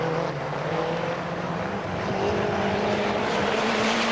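A Lancia Delta rally car at full effort on a loose stage of leaves, grass and stones at the 1988 Race of Champions, its engine a loud, steady roar with a drawn-out tonal drone across the whole stretch.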